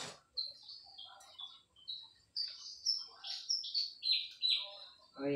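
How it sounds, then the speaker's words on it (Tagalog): Birds around a house chirp and tweet in short, high, bright calls, several phrases in quick succession, fairly faint and close in an otherwise quiet setting, with a brief clatter at the end. "Yung huni ng ibon dito sa ating"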